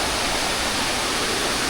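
Dense, steady roar of a waterfall on a mountain hiking trail, rushing water heard close and loud without any talking.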